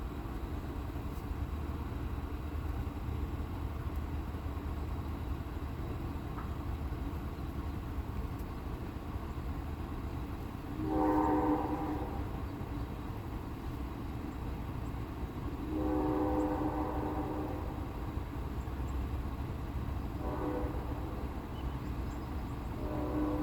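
A train horn sounds about two miles off in a few separate blasts, rising over a steady low rumble of distant traffic or wind.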